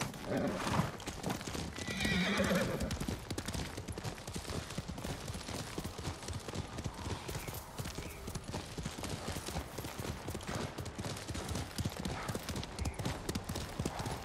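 A horse in the video game Ghost of Tsushima whinnies loudly near the start, then gallops with rapid, steady hoof clip-clops for the rest of the clip, close and prominent.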